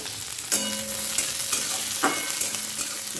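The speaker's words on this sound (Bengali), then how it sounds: "তো অ্যাকচুয়ালি এটা হচ্ছে ভাত ভাজা, একটু গোটা জিরে ফোড়ন করবো।" Leftover rice frying in a pan with whole cumin and dried chilli, a continuous bright sizzle broken by a few scraping stirs of a spatula, close and alone with no voices.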